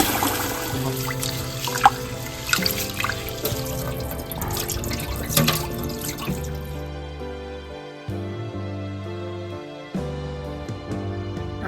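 Running tap water splashes steadily over a mix of moong dal, grains and a little fenugreek being washed in a bowl, with background music playing alongside.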